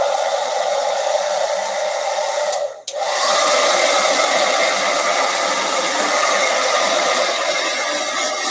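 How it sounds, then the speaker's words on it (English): A hair dryer blow-drying a painted page, a loud steady whooshing blast that cuts out briefly near the middle, then resumes at full strength. "I'm going to blow dry this sucker"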